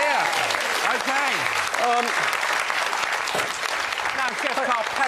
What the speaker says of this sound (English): From start to finish this side, round of applause!